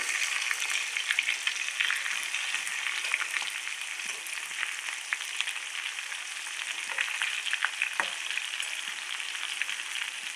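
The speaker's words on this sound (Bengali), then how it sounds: "এই আলুগুলোকে আমি ভাজবো।" Potatoes frying in a pan, a steady broadband sizzle with crackling pops running throughout, close and fairly loud, with no talk.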